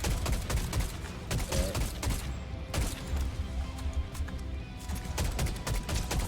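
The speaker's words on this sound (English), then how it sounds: "I'm gonna try shooting him from the roof" Gunfire in Fortnite from a rooftop, sharp shots scattered in quick irregular bursts over a constant busy game background, moderately loud throughout.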